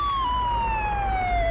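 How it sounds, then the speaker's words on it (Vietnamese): A fire truck siren wails in a mobile 3D driving game, a steady electronic tone sliding slowly downward over low engine hum, loud and alone. "Ồ, con này mở còi hú được."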